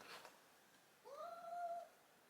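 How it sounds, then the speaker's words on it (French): A single drawn-out cat meow rises and falls, clear against a quiet room, with no talking. "donc désolée si vous entendez des miaou"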